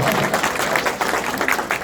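A crowd of workers claps loudly in welcome for a Maharaja at a gathering in Dewas, a thick, continuous roar of applause close by, with no gaps, over the whole short stretch.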